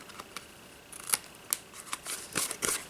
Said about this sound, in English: Cut that piece off and cut some wedges.